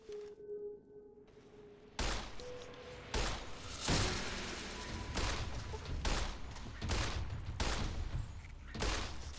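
Rapid gunfire in the video game Fallout: New Vegas, a quick burst of loud repeated shots after a brief quieter opening, continuing in dense volleys to the end.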